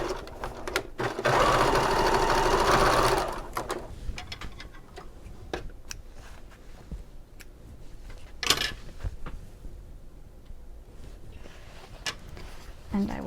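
Sewing machine top stitching a seam on a bag, a loud steady whirring run followed by quieter handling clicks and taps, with a voice speaking over parts.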